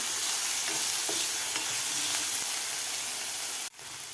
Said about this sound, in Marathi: दोन ते तीन मिनिट आपल्याला व्यवस्थित हे फ्राय करून घ्यायचं आहे अद्रक लसूण पेस्ट आणि कांदा